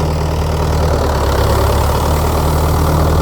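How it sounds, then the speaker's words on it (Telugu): A tractor fitted with a baler runs its engine close by in a loud, steady, low knocking drone with a rapid diesel pulse throughout. No one talks. "బండి లేస్తుంది ఆలే. ఓ అమ్మ లేస్తుంది, చిన్నగా లేస్తుంది."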